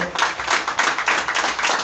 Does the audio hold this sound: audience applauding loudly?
yes